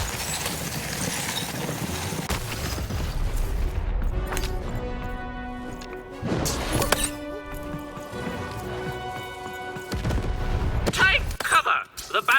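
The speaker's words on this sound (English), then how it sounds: "Shoot the button to fire the cannon." Cannons fire in the video game Lost in Random, with several booming blasts and clanking mechanical, ratchet-like sounds spread across the stretch, amid game music and effects.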